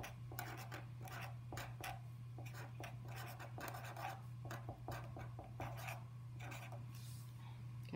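Pen or pencil writing by hand on paper during a multiplication lesson, a series of short, quiet scratchy strokes in irregular bursts over a steady low hum.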